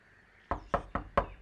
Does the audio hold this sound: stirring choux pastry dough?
no